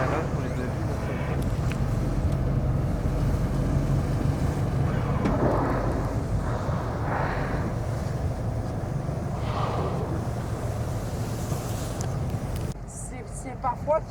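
Motorboat engine running on open water, a steady, loud, low drone with wind rumble, voices talking faintly over it, then cutting down near the end.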